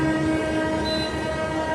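A MEMU train departing the newly renovated Kadi railway station toward Kalol and Sabarmati sounds a loud, sustained horn over a continuous rumble of rolling wheels.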